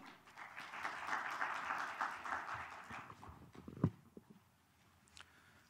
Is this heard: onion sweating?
no